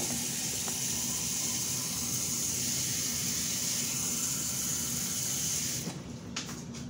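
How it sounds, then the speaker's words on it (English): Tap water runs in a steady, full rush for about six seconds in a kitchen while preparing a spinach immune-boosting mix, then cuts off, leaving a few small clinks. "Water."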